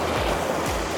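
Ocean waves wash onto a Bonita Springs beach at rising tide, heard as a loud, continuous broadband roar of surf with a low rumble, close to the microphone.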